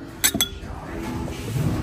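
A small glass storage jar with a cork top clinks twice in quick succession, close and bright, followed by faint handling noise in a quiet room.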